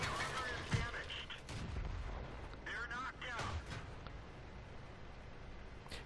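Tank cannon shots in World of Tanks, Ram II on the Karelia map, with a few sharp booming blasts and rumbling echoes between them, while someone talks over the action.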